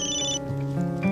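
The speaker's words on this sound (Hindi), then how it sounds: "राना मैडम का फोन बज रहा है।" A telephone rings in an Urdu-dubbed drama scene, a short bright electronic tone that changes pitch partway through, heard close and clear with no speech over it.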